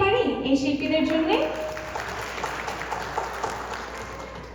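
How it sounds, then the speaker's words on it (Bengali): An audience at a Victory Day celebration claps for performers, a broad, sustained wash of applause that rises as a brief musical phrase fades and then continues steadily with crowd murmur. "আমরা আরেকটি করতালি দিতে পারি এই শিল্পীদের জন্য।"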